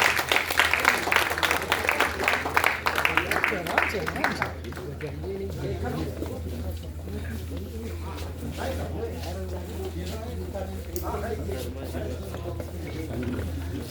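A hall audience at a children's literature book launch bursts into loud, dense applause for about four seconds, then the clapping stops and someone speaks into a microphone over quiet room noise.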